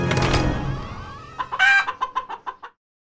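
Chicken clucking from the Choose your Face iOS game: a burst of loud clucks and a crowing note at the start, then a rapid string of six or seven short clucks that ends abruptly in silence.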